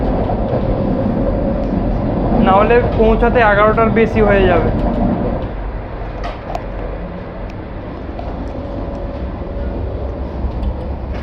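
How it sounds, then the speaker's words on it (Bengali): The Vande Bharat Express, just pulled out of Muri station, gives a steady, close rumble and rattle of the moving carriage. A person talks briefly over it, and the train noise carries on alone afterward. "মুড়ি স্টেশন থেকে ট্রেন ছেড়ে দিয়েছে"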